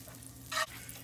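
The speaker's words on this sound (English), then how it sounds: "I'm going to be adding oil on a pan" Oil and butter in a pan give one short, loud sizzling burst over a low steady background hum.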